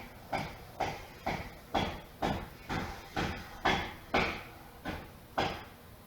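Steady hammer blows from construction of a neighboring house ring out in an even rhythm, about two per second, a dozen strikes, somewhat distant and unaccompanied by voices.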